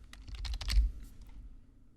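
Quick burst of typing on a computer keyboard, a dozen or so close, light key clicks in a rapid run that trails off after about a second.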